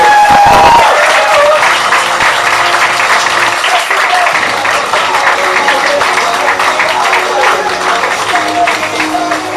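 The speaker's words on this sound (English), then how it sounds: "give him a very, very big round of applause" Sustained audience applause from a crowd welcoming a performer on stage, loud and steady throughout with some scattered cheers and voices mixed in.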